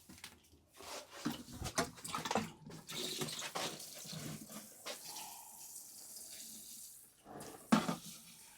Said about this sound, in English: So I'll water these in.